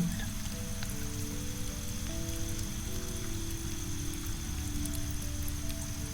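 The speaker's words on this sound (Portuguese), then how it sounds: "que cai lá fora, agora mais forte, cria uma música no telhado." Rain falls steadily on a cabin roof in a rainforest, making a dense, even patter that holds at a constant level throughout, with a faint low tonal hum underneath and no voices.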